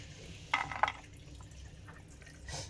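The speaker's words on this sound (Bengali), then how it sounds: "ভালো করে ধুয়ে নিতে হবে এগুলো ধুয়ে" Kitchen items, likely fruit such as bananas, rinsed under running tap water before mixing with oats, with two short splashing bursts over a faint background trickle and a later soft gush.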